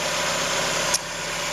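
A Mazda MX-5 engine idling steadily while warming up before an oil change, a constant close rumble with a brief faint click near the end.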